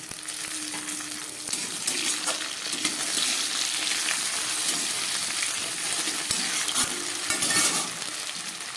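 Tomato goes into a pan of frying potato and onion, with a loud, close sizzle and crackle and repeated scraping and stirring of the pan.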